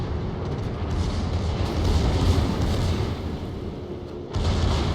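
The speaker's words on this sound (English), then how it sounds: "Yay, Bismarck secondaries." Secondary battery guns of the battleship Bismarck firing in World of Warships, a dense continuous roar of booms and rumbling detonations, loud and sustained with a brief dip near the end.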